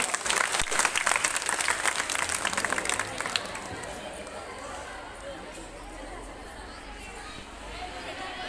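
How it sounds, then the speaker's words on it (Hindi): Applause from an audience at an Independence Day cultural programme at a girls' school, dense clapping for about three seconds that quickly fades into scattered claps and soft crowd chatter. "एक बार और जोरदार तालियां।"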